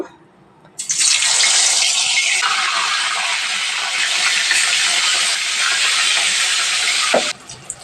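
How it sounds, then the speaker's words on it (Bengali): Tilapia fish hit hot oil with a sudden loud, dense sizzle that holds steadily for several seconds, then cuts off abruptly, close and alone without talk. "মাছগুলোও ভাজে নেব তো আমার তেলটা গরম হয়ে গেছে একটু গরম হইতে দিচ্ছে এখন মাছগুলো দিয়ে দিব"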